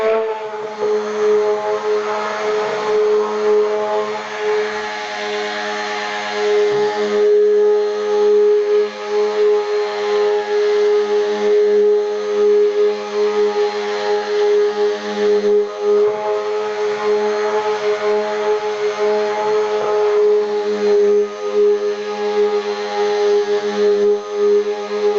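A hand blender mixes a batch of homemade soap, giving a steady, loud electric motor whine with a fixed pitch and strong harmonics, running continuously and close up with no talking.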